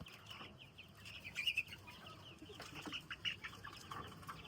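Chickens and chicks on a farm, with the mother hens kept apart from the chicks, make faint, scattered high chirps and clucks with occasional wing flutters, distant and quiet.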